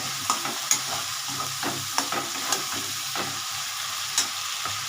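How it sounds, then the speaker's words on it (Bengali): Spice paste frying in a pan gives a constant close sizzle, with repeated stirring scrapes and light taps of a spoon against the metal spaced through it, moderately quiet and with no voices. "একটু কষিয়ে নিই মশলাটা"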